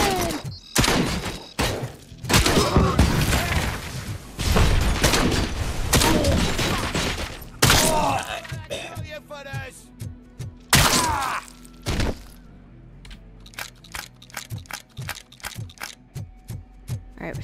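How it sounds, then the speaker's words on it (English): Gunfire in the video game RoboCop: Rogue City: loud, dense volleys of shots with heavy thuds and impacts, thinning into scattered single shots toward the end. "The gunshots are very loud. I keep turning the game down."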